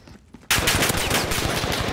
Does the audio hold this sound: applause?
no